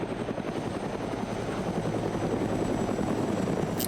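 A helicopter flies in Arma 3 with a continuous, loud rotor chop and engine rumble that stays steady and close throughout, with no voices.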